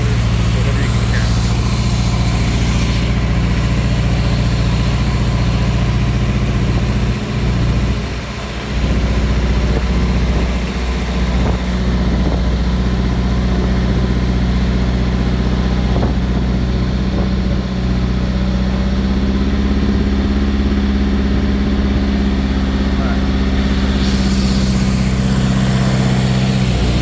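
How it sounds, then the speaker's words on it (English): Honda/Acura V6 car engine idling with a suspected misfire, a steady low loud drone running alone for the whole stretch, with faint irregular knocks scattered through it. "I think he has a misfire going on."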